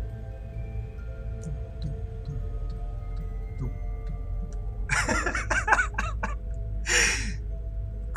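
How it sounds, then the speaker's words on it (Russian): Breathing heard in Five Nights at Freddy's: Sister Location, Custom Night mode: a few raspy, airy breaths in a close cluster near the end, over a steady low hum and scattered faint ticks. "Кто там дышит?"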